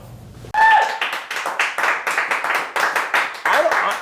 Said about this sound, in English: Honestly, I don't even understand why the crowd's applauding